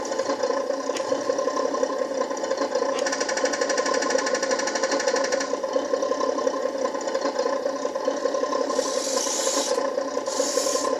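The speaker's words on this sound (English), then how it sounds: "Machine gun." The RC 1:16 Panzer 38t tank model plays a machine gun sound effect, a rapid mechanical rattle of closely spaced bursts over a constant motor whine, with further hissing bursts toward the end.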